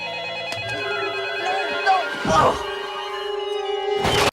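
A telephone bell rings in a 1994 movie scene, a steady repeated electronic trill running almost throughout, with a couple of thuds and brief voices under it.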